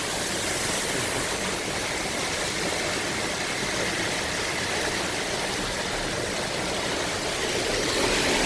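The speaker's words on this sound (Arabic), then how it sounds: "شوف الشلالات فوق. لسه ما توقفت." Heavy rain in Riyadh pouring off a roof like a waterfall, a steady, dense roar of rushing water that stays constant and loud throughout, with no voices.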